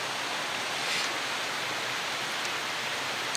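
Steady, broadband rush of creek water flowing along a backpacking trail, a constant close hiss with no breaks and no voices.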